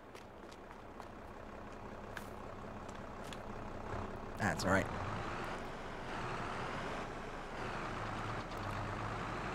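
A tractor engine rumbles at a steady low drone while driving along a road in Farming Simulator 22, with a brief clunk midway and a voice speaking a few words.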